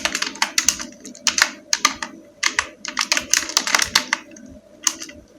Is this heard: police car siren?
no